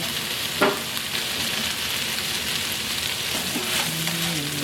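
Garlic and red pepper flakes sizzle in a frying pan with onion and peppers, a steady, bright, crackling hiss close up with a few stirring clatters.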